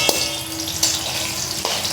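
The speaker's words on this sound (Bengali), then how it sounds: "এবারে যে কড়াইয়ে তেল বসিয়েছি, এবার ভাজবো।" Lentils (dal) drop into hot oil in a wok and fry with a steady broadband hiss. Brief louder bursts of sizzle occur near the start, middle and end.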